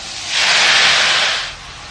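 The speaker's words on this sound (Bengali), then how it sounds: "আর এবার দিয়ে দেব ভাপিয়ে নেওয়া এই লাউটা" Steamed bottle gourd hits hot turmeric-tinged oil in a pan, releasing a loud, close burst of sizzling hiss that swells quickly, holds for about a second, then eases off.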